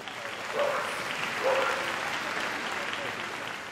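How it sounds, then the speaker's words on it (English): Audience applause at the Crufts 2019 dog show after a working trials demonstration, a steady wash of many hands clapping across a large arena, fairly distant and continuous, with faint voices beneath it. "let's give them all a big round of applause, folks"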